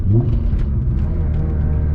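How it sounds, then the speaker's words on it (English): Steady low engine drone fills the cabin of a BMW E36 M3 on the move, a loud constant rumble with no talking over it. "God, this car is so loud."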